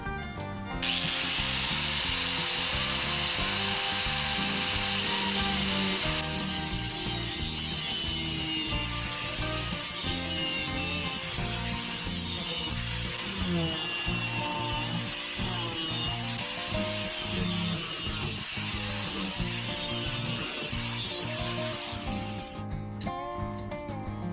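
A power tool cuts metal pipe for a homemade boat deck pipe rail, a loud, continuous, close whine with grinding rasps that holds steady for over twenty seconds and then stops, with no talking.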